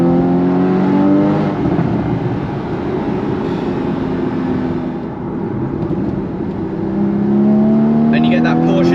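A Porsche 981 Spyder with its 3.8-litre engine revs and accelerates, a droning engine note rising and falling over several seconds, heard from inside or near the car while someone talks over it.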